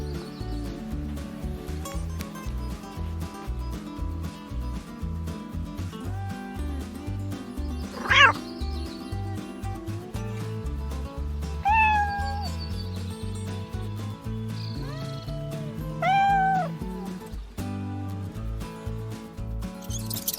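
A domestic cat meows a few times, short rising calls standing out over steady background music with harmonic tones throughout.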